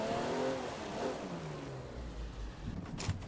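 A Rocket League car engine revving inside a Fortnite match, a steady mid-pitched engine drone with rising and falling pitch sweeps, loud and continuous, ending in a brief clatter.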